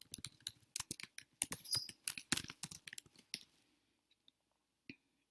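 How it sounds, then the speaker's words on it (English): A user ID and password are typed on a computer keyboard in quick, uneven bursts of close, crisp keystrokes, ending in a few sparse clicks. "You simply type in your OWLINK user ID and password."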